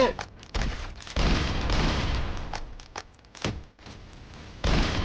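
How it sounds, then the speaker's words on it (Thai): Gunfire in the Roblox video game Dead Rails, a run of sharp close shots and thumping bursts with brief gaps between them, under occasional talk. "มันยิงมาแล้วมันยิงมาแล้ว"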